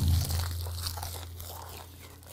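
Crisp crunching from someone biting and chewing a mouthful of gwamegi, dried Pohang herring or saury, wrapped in napa cabbage with green onion, close to the mic and loudest at the start over a steady low hum.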